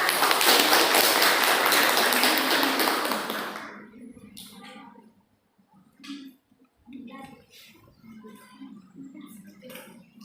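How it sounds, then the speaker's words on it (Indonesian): Classroom applause for a student group at a teaching session: a loud burst of clapping for nearly four seconds stops abruptly, followed by scattered sparse claps and faint talk. "Beri tepuk tangan untuk kelompok 3."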